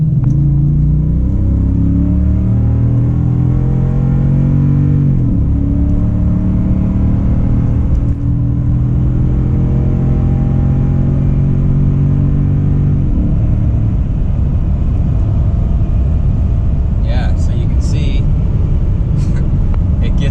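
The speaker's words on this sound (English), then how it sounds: "we're just about to merge onto this highway here, so we'll give her a go" A high-mileage Toyota Tundra truck accelerating to merge onto a highway, heard from inside the cab as a loud engine drone rising through gear changes with road rumble, while someone talks over it.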